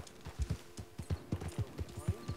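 Horse hooves in Red Dead Redemption 2 clip-clop in a steady, rhythmic trot. The hoofbeats are close and moderately loud and repeat evenly over a faint background.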